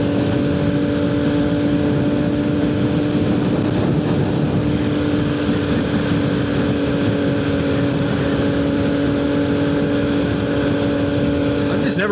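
A Ducati S2R1000 motorcycle cruises along Ward Parkway with a steady droning engine hum under heavy wind rush from riding, and a rider's voice is heard over it.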